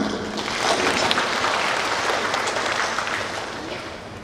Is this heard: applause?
yes